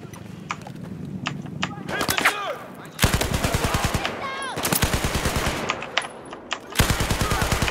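Repeated bursts of rapid automatic gunfire from a newly acquired weapon in the video game Battlefield, loud and close, mixed with other in-game sounds and separated by brief pauses.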